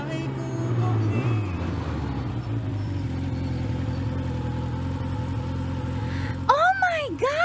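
A motorcycle engine runs with a steady mid-pitched drone close by, with excited voices talking over it, and a sharp sweeping revving sound near the end.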